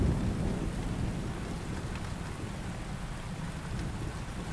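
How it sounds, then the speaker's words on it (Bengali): Light rain falls steadily at night by a small railway station, a soft, even patter over a low continuous rumble, with no voices. "আকাশ তখনও মেঘলা, সাথে হালকা বৃষ্টি ঝিরিঝিরি করে পড়ছে।"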